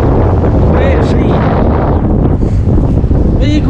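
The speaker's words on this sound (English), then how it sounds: "Filey Beach, and it's windy!" Strong wind buffets the microphone on Filey Beach, a loud continuous roar with gusty rumble throughout, and faint voices or sea sounds occasionally showing through.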